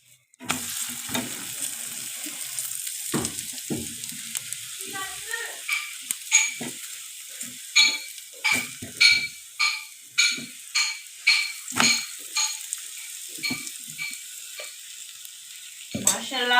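Moli (radish) paratha frying in ghee on a pan, a close sizzle with repeated crackling spatters that grow into regular pulses toward the end.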